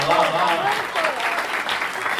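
Loud, steady applause fills the room, dense clapping from a crowd that holds at full strength throughout.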